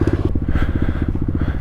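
A pit bike motorcycle engine runs hard while riding, with a rapid, loud, throbbing putter that pulses evenly throughout, close and without speech.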